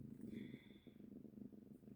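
A rescued foster cat purrs close by in a steady, low rumbling drone that continues throughout, with a faint higher tone briefly in the background.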